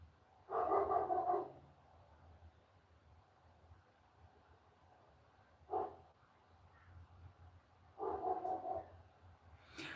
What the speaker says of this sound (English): Sometimes I don't understand what Thomas barks at